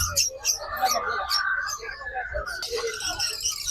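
Budgies at the Malabon pet market chirp and twitter in quick high bursts throughout, under near, steady talk between a vendor and a buyer.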